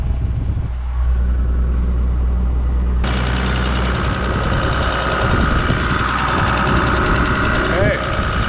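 A Toyota Land Cruiser HJ61 engine runs just after starting, a loud, steady diesel-like idle with a low knocking rumble that continues throughout while a person talks over it.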